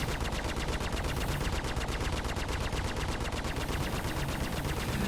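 Rapid, sustained automatic gunfire from the video game Star Citizen rattles continuously with dense overlapping bursts, loud and steady throughout, like an intense firefight.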